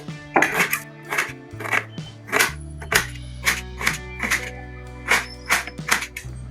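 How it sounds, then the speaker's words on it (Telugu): Knife chops onions on a board into large pieces, about a dozen crisp cuts in a steady rhythm, with a sustained musical drone underneath. "చూడండి ఆనియన్స్ని ఇట్లా పెద్ద పెద్దగా కట్ చేసుకోవాలి"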